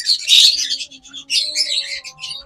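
Pet lovebirds, a red-eyed male and female pair, give bright repeated chirps and tweets up close, in short bursts separated by brief pauses.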